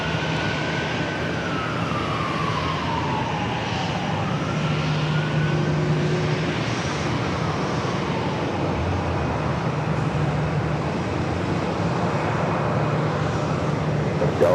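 An Airbus A321 jet airliner on a Delta flight to Atlanta at San Diego airport, taking off from runway 27, produces a continuous loud engine roar with rising and falling whine tones, sustained throughout without speech.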